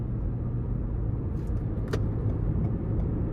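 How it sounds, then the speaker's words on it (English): A 2023 Toyota RAV4 Hybrid Woodland Edition with the 2.5 engine accelerates on the road, heard from inside as a steady low rumble of engine and road noise with no voices. "now it's time we take this 2023 Toyota RAV4 Hybrid Woodland Edition out on the road for a test drive"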